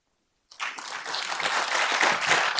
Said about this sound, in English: I really appreciate all of you as the audience to stand up and clap for yourselves for just being here